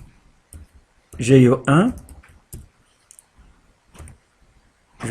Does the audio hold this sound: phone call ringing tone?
no